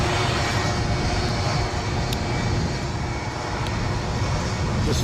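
Aer Lingus airliner engines roaring steadily during takeoff at Edinburgh airport, a loud, broad continuous rumble that stays constant throughout with no talk over it.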